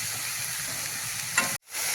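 Loud, close hiss of fenugreek greens frying in hot tempering oil, steady throughout, cut by a brief drop to silence near the end before the sizzle resumes.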